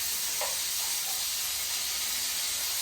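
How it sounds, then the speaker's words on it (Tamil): Onion and curry leaves sizzle in hot oil, a loud, continuous close-up hiss and crackle that holds steady throughout. "இதுக்குள்ள எண்ணெயும் கொஞ்சம் ஊற்றிட்டு வெங்காயம் கருவேப்பிள்ளையும் போட்டு"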